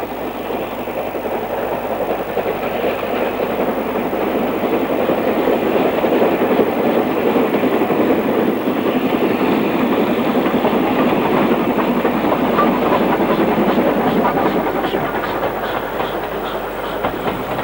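Steam locomotive working on the North Yorkshire Moors Railway: a loud, continuous rumble of wheels and carriages with rhythmic clickety-clack and engine chuffing, steady throughout.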